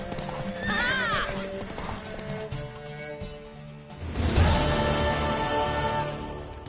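Hooves clip-clop at a gallop while a horse neighs loudly in The Witcher 3: Wild Hunt video game, with a second whinny and a heavy crash-like thud, voices murmuring underneath.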